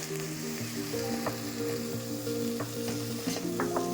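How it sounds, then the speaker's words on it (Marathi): Fenugreek leaf (methi) dry bhaji stirred in a hot pan, with steady close sizzling and repeated spatula scrapes and clinks across a few seconds, no talking. "भाजी चांगली हलवून घ्यायची आहे खालीवर करायची आहे चांगली"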